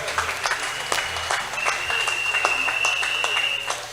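A church congregation applauds loudly and steadily in a large room, with dense clapping close and far, and a few cheers and voices rising through the crowd.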